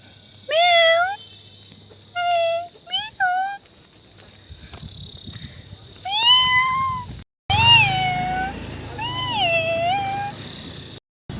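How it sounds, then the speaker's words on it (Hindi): A black cat gives a series of short, high, plaintive meows, some in quick pairs and triples, close by over a faint insect-like background with a steady high tone. "मैंने पहली बार काली बिल्ली देखी है, अभी डर रही है"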